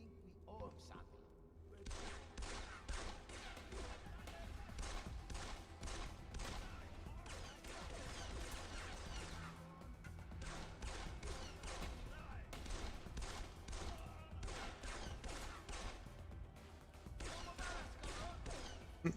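Gunfire in the PC horror game Disillusions: Manga Horror, with rapid bursts of shots in repeated clusters over a low steady rumble, fairly quiet overall. Talk runs intermittently underneath.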